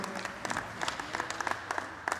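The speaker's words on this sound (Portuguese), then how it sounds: "Carlos Boda, uma salva de palmas para ele" Audience applause at a Portuguese pool prize-giving ceremony, a short burst of scattered clapping with distinct sharp claps, moderately distant and heard on its own.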